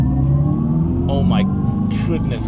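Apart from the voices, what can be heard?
Dodge Charger Daytona Scat Pack EV accelerating hard with simulated exhaust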